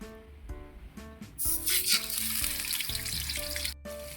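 Steady, loud sizzling of galunggong fish frying in hot oil, crackling and popping continuously with a few scraping stirs.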